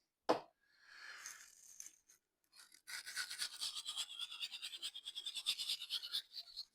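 A dull blade's bevel is being ground back and forth on coarse sharpening stones, a Shapton Pro 320 and Naniwa Chocera, giving a steady rhythmic rasping with close, repeated strokes after a brief knock and quieter scrape.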